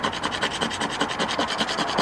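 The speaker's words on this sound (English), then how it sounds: "That's actually scraping off back down to that chalky cream paint." A metal coin is dragged back and forth across Dulux Diamond Satinwood paint, scraping it down to the chalky cream paint underneath in a close, steady, rhythmic rasping.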